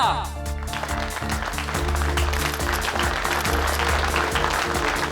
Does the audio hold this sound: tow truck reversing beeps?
no